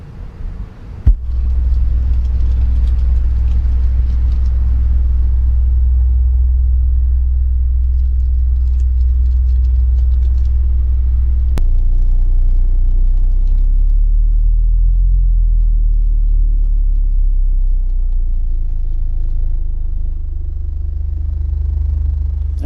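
A 15-inch car subwoofer plays low sine sweeps starting around 20 hertz as a loud, sustained, deep rumble whose pitch steps upward partway through.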